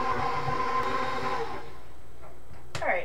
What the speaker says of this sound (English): I've already had to turn off the mixer and scrape down the sides a couple of times